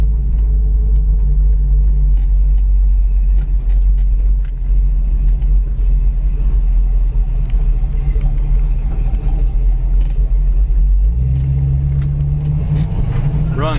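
Big engine of a 1973 Petty blue Dodge Challenger with spoiler, idling slightly low: a steady deep rumble that stays constant, then a brief rise in pitch near the end, with no talking.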